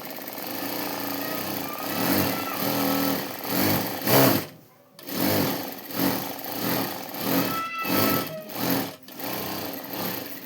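Sewing machine stitching a folded sleeve lining, running in steady close bursts with a brief pause midway, then resuming in short rhythmic runs.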